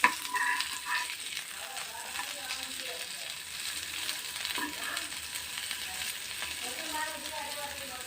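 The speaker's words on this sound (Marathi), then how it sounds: "चिकन एका वाटेन भाजल्या उपरांत टर्न करून दुसरे वाटेन भाजून घेवपाक जाय" Rice-flour-coated chicken pieces fry on a hot tawa with a steady close sizzle and crackle, with faint scraping and clinks throughout.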